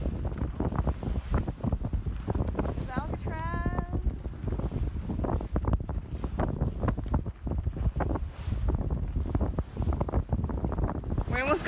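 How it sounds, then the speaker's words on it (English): Strong wind buffeting the microphone aboard a sailboat in the bay at about 10 knots, constant broadband rushing with gusty bursts, and a voice briefly speaking over it. "We have about 10 knots of wind."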